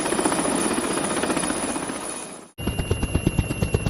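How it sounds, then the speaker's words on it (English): A heli-ski helicopter, the kind that carries skiers into mountain terrain, sounds loud and close with a steady rotor roar. It cuts out briefly, then comes back as a sharp, rhythmic blade thumping. "Heli-ski helicopter."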